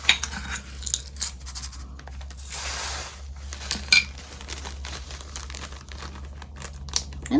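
A small measuring cup scoops a homemade mixture into a plastic bag, giving crisp crinkling and rustling with faint clinks, intermittent close handling noises over a low steady hum.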